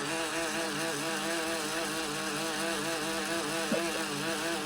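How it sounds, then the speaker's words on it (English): A roof rack light bar spins with its lights running, giving a steady mechanical whirring drone with a wavering, gear-like grinding pulse, close and continuous without any talk. "That is the sound of the little lights and the light bar spinning around as the lights are going."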